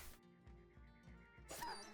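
A dog in the Battle Brothers video game with the Legends mod gives a string of rhythmic growling barks over game music, moderately loud and close.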